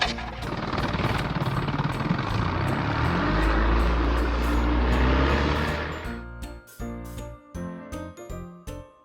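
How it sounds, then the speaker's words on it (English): A toy motorboat engine runs with a loud, steady low drone for about six seconds, then gives way to a chiming musical jingle with distinct repeated notes. "Motorboat."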